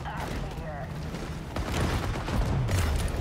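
Gunfire from enemies shooting at a shark in the video game Maneater, dense bursts and booms over a rumbling game soundtrack, under someone talking.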